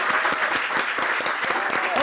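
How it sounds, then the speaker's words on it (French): Audience applause at a French-language event honouring a television channel's director general, a steady dense patter of many hands clapping fairly close, with a voice talking over it. "On applaudit pour lui."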